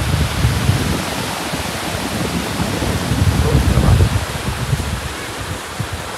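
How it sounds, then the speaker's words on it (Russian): Ocean surf rolls onto Mandrem beach in Goa on an evening walk, a loud, continuous wash of breaking waves with rumbling swells and no talk. "океан"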